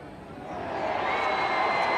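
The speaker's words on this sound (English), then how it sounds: "And the crowd like what they've seen." An Australian football crowd at a 1996 AFL match between Fitzroy and Fremantle roars after a goal, the cheering swelling from a murmur into a loud sustained wall of voices with whistles and whoops.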